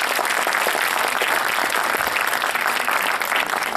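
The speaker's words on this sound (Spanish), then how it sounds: "¿Por qué no le da un aplauso al Señor?" A church congregation applauds together, a dense, steady wash of clapping that stays loud and even from start to finish with no talk over it.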